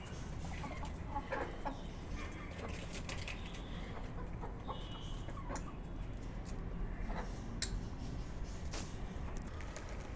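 Chickens clucking in a backyard coop during cold weather, soft scattered clucks and short calls from several hens over a constant low background hum, fairly faint and without any speech.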